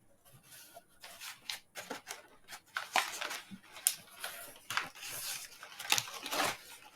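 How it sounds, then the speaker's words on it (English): Cardboard and plastic packaging of a Delta 17 Shepherd toy figure box being opened up close, with quiet tearing, rustling and scraping bursts that grow busier as it goes. "Okay, so opening the box"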